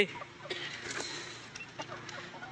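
Chickens cluck softly in short, scattered calls against a quiet farmyard background.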